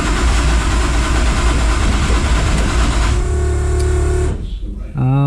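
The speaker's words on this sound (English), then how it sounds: "I'm gonna give it a little bit of throttle this time, just a little bit. Try to start it up." A Toyota 2JZ engine swapped into a BMW E30 cranks and briefly catches with a little throttle, a loud, dense mechanical roar that dies out near the end, followed by a short tonal whine.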